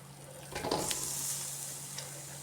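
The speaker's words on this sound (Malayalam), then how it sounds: "ഇനി ഇതിലേക്ക് കഴുകി വെച്ചേക്കണ ചിക്കൻ ചേർത്ത് കൊടുക്കാം." Washed chicken drops into a pot of hot oil and turmeric with a sudden loud sizzle that swells and then settles into a steady frying hiss, heard close with no voices.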